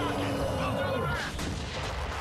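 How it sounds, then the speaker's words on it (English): Airstrike explosions in the shooter Gears of War 4 boom in quick succession, heavy and loud, rolling into one another over a couple of seconds. "Airstrike"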